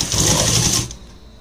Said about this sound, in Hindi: इसको यहाँ से सिलने के बाद जो ये हमारा कपड़ा था इसको हम इसके ऊपर पलट के सिल देंगे।